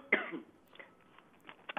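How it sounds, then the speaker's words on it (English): A single sharp cough near the microphone, followed by faint throat noises in an otherwise quiet room. "I'm getting over a cough"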